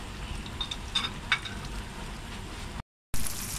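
Chicken pops fry in hot oil with a steady, close sizzle and scattered crackles. The sizzle is cut by a brief dropout of silence and then returns.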